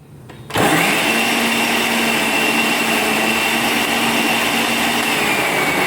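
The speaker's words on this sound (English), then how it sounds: "then we need to blend this one, so let us wait a little bit" Blender whirring through avocado sauce with lemon juice, starting abruptly after a brief quiet moment, then a loud, steady high-pitched motor roar that continues unbroken, close by and alone.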